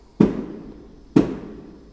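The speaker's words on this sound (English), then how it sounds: "Can you hear all of these fireworks going off?" Two sharp fireworks bursts crack outdoors on the Fourth of July about a second apart, each a loud boom with a short decaying tail, heard alone without talk.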